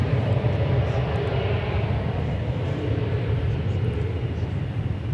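Steady broadband roar of an Embraer 175 jet passing at DFW Airport on a hot afternoon, constant and fairly loud throughout with a heavy low rumble and no voices.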